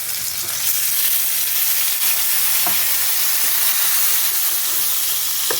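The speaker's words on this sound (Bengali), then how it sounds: "এখন মশলাটা আমি একটু কষিয়ে নেব" Spice masala with turmeric powder and salt fries and is stirred in a pan for hing begun, giving a steady loud sizzle with a few scraping stirs and no talking.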